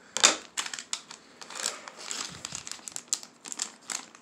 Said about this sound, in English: I'm just gonna use the scissors anyways